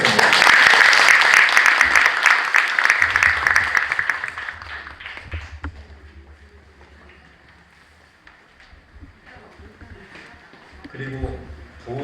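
An assembly hall of a church general meeting applauds its officers, a dense burst of clapping that fades over several seconds, followed by quieter room noise and shuffling.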